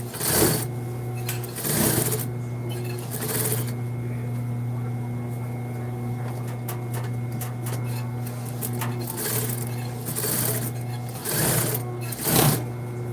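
Sewing machine stitching face masks, running steadily and close by with a constant motor drone and rapid needle chatter, interrupted by a few short bursts of handling noise.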